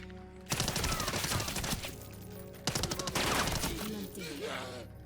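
Fully automatic weapon fire in the zombie shooter No More Room In Hell 2, two long rapid bursts of close, loud shots with someone talking underneath.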